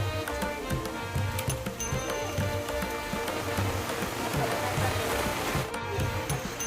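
Rain falls steadily outdoors during a Ganpati idol immersion, a dense continuous patter on surfaces with some rhythmic tapping, heard close and without clear talk.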